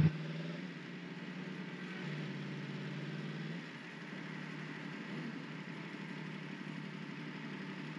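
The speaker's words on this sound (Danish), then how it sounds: "så har den her altså bare lidt en anden lyd på motoren af" A Yamaha MT-10 motorcycle engine idles steadily at close range, a low rumbling drone with a slight dip in level partway through and no talk over it.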